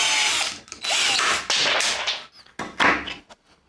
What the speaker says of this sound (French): on va faire un autre trou là, comme ça, avec la scie sauteuse